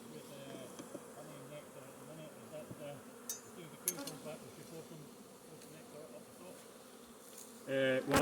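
Honey bees buzz steadily around an open hive during a brood frame inspection, a dense close swarm drone running throughout with brief louder passes near the end.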